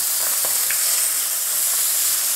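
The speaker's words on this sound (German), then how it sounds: "Und jetzt lasse ich sie von der anderen Seite auch nochmal schön anbraten." Steaks sizzle and sear in a frying pan after being flipped to brown the other side, a steady close hiss with a few faint crackles and pops and no talking.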